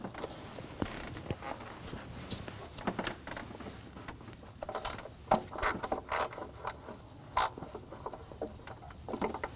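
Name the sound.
ratchet with 10mm socket removing manifold bolts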